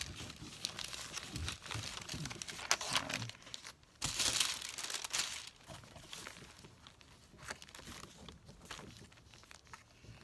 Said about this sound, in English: I pulled out this wax paper to use it so I don't do this.